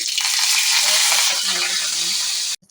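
Mustard seeds sizzle and crackle loudly in a little hot oil in a pan, a close, dense spattering hiss that stops abruptly near the end.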